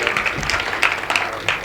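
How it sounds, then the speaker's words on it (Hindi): An audience at a Haryanvi comedy poetry gathering claps for a short burst, with scattered hand claps blending into a light, close round of applause. "आप उनके लिए तालियां बजाएं।"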